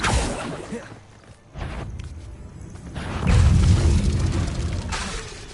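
A Bombarda explosion spell from the video game Hogwarts Legacy lands as a loud booming blast with a whooshing rush and debris. Heavy low rumbles swell again midway and then fade, with no talking.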